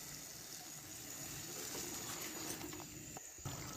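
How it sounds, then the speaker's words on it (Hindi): Water pours in a steady, rushing splash into a cooking pan holding spices, salt and turmeric, close and continuous with no talk. "तो अभी इसमें डालेंगे थोड़ा सा पानी।"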